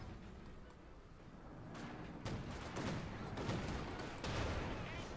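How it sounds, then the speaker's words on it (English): Field gun shots and distant battle fire in the Company of Heroes 2 war strategy game, a few sharp booms layered over a dense, continuous wash of gunfire and explosions. "Great hit by the field gun on it."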